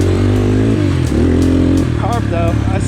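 A GPX FSE250E motorcycle with a carburetor that never runs quite right sits running loudly up close, a steady low engine drone with rough pulsing, while someone talks over it.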